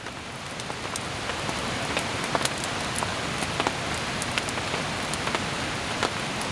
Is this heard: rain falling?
yes